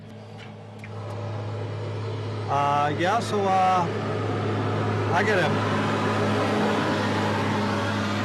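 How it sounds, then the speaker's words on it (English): A tractor passes outside an open-air phone booth, its low, steady engine drone swelling slightly as it goes by, while someone talks over it. "you can probably hear that, a passing tractor"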